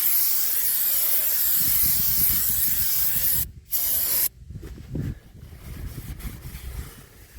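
An aerosol brake cleaner blasts onto a rear brake part of a 2006 Honda CR-V, a loud, steady close-up hiss that cuts out briefly mid-way, then resumes in shorter, weaker bursts.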